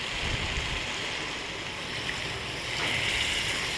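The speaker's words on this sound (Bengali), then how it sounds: "আর এদিকে আমার ডালটাও উতরে গেছে একটু ভালো করে বয়েল হোক তারপর নামাবো" Mung dal lentils boiling in a pot in a home kitchen, a continuous, even bubbling hiss heard close and at fairly steady loudness, with no voices.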